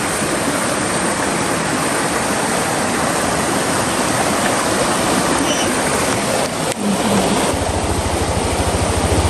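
Vehicle driving through a river in Tanay, Rizal, with a loud continuous rush of splashing water and a low engine drone under it the whole time.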